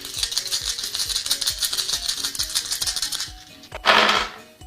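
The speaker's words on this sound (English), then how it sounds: "I give them a shake and I roll them out onto a surface" Nine story cube dice with symbols on each side, shaken together in a steady rapid rattle for about three seconds, then one short loud clatter as they are rolled out onto a surface.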